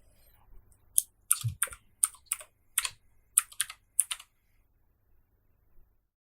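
Someone types a router password on a computer keyboard in a quiet room, a quick run of about a dozen sharp, close key clicks over roughly three seconds, then a pause and one last soft tap.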